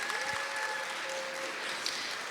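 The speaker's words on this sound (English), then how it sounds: "Let's give them a round of applause." Audience at a keynote address applauding, a steady wash of clapping held for a couple of seconds, moderately loud with a few tonal notes from the room.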